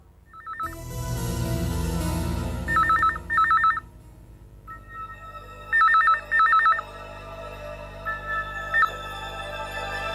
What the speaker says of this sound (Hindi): फोन की घंटी बज रही है।